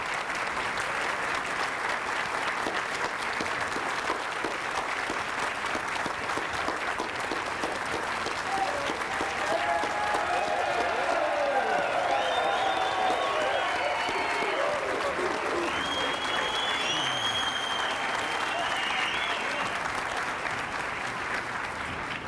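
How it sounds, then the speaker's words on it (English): A crowd in Barrow gives Mayor George Ahmaogak loud sustained applause and a standing ovation at the Kivgiq celebration, dense clapping throughout with cheers and whoops rising midway, voices mixed into the roar. "He deserves the applause and standing ovation."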